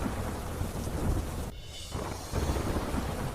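Torrential rain pours in a dense, steady roar across a flooded city area, with deep rumbling thunder underneath and a brief dip in the downpour midway before it surges back loud and close.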